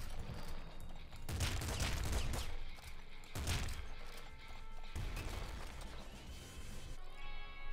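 Gatling Slugger gunfire in the top-down shooter Nuclear Throne, heavy close blasts in several dense bursts a second or two apart, each a loud booming crash, with a quieter stretch near the end.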